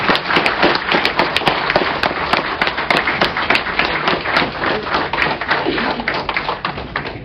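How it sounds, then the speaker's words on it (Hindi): Loud, dense applause from an audience welcoming a speaker at a Bank of India Officers' Association gathering, with many rapid overlapping claps sustained evenly throughout. "जोरदार तालियों से उनका स्वागत करें"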